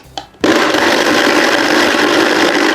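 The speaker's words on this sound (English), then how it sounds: "now we're gonna blend. I'm gonna start on low speed and you can just hear it" A Vitamix high-speed blender on low speed churns hazelnut spread, starting abruptly after a brief clunk and holding a steady, loud, coarse grinding roar to the end.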